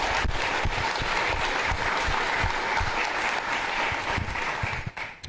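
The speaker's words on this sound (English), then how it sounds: "So I'd like to do a round of applause for them." A crowd at a public meeting about the Lower Sugarloaf and Labor Mountain wildfires applauds local public safety responders: dense, steady clapping that holds for about five seconds, then thins and fades at the end.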